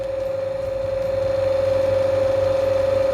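An electric motor runs steadily at 1448 rpm during an electrical machines lab test, giving a constant loud hum with one strong steady tone over a low mechanical drone, and no talking.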